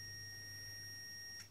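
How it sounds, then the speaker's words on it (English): A continuous high electronic beep tone from a multimeter continuity test on a relay holds steadily, then cuts off abruptly, over a faint low electrical hum. "See that continuity beeping?"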